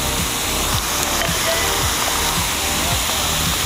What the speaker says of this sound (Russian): Водопады Белека.